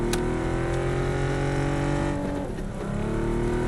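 Engine of a car driven in a video game, a steady loud drone with shifting revs that dips briefly near the end, continuous and alone.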